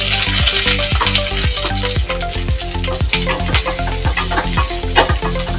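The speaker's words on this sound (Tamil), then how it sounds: "இந்த அளவுக்கு நம்ம வெங்காயம் தக்காளியை வதக்கியாச்சு" Onion and tomato sauté in a pan for a paneer butter masala base, a loud steady sizzle with rhythmic scraping stir strokes roughly every half second, close and continuous with no talking.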